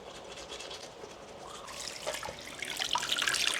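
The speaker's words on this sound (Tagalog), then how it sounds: "Toothbrush na lang muna ako." A toothbrush scrubs teeth in a bathroom with a tap running, the wet brushing strokes growing louder and busier toward the end, no voices.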